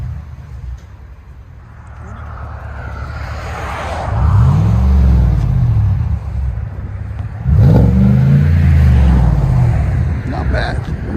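A Chevy/GMC 6.2L V8 in a GMC Sierra revs up twice toward the rev limiter, rising and falling each time, loud and close over a steady idle. People talk over the engine.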